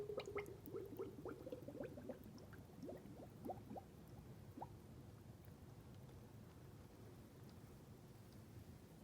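Fork oil for a 2007 Honda CRF150R is poured into a fork tube, giving a steady, faint trickle with small glugging drips and bubbles throughout and no talking.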